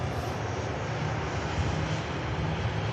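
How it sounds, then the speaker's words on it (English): A TAP Air Portugal Embraer E195 jet approaching Manchester Airport from Lisbon gives a steady, broad engine roar that holds at an even level throughout, with no talk. "Just awaiting the TAP Air Portugal E195 advanced range aircraft."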